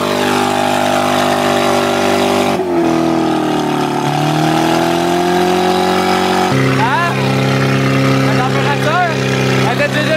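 A loud car engine with sand inside it drones and revs steadily, its pitch rising and falling with a rough, gritty edge, while a voice talks over it throughout.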